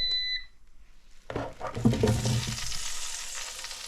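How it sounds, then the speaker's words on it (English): After a short beep and a moment of quiet, chips drop into hot frying oil and burst into a loud, crackling sizzle that keeps bubbling steadily. "Oh, a nice sizzle."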